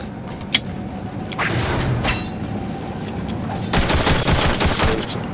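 Rapid bursts of automatic gunfire in the sci-fi shooter game Warframe, loud and dense, with a sharp single shot early, a lighter stretch mid-clip and a heavy sustained volley toward the end, with no talking.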